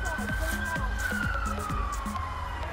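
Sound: emergency vehicle sirens

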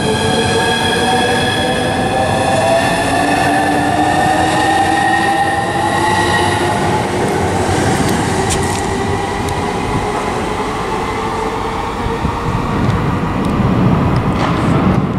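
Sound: Southeastern Class 395 train at Stratford International, HS1

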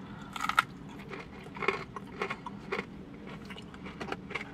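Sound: biting and chewing crispy breaded chicken tenders

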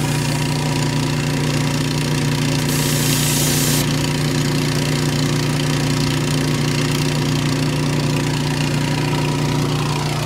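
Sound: air compressor running

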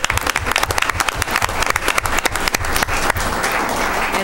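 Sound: audience applause

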